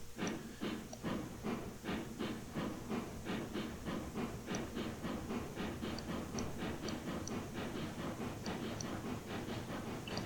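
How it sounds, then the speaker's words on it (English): Steam locomotive in the Railroads Online game chuffing and hissing in a steady, rapid rhythmic pulse, loud and continuous throughout with faint metallic clicks. "Love the steam effects."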